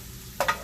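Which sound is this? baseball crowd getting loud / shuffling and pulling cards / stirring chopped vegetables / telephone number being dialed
stirring chopped vegetables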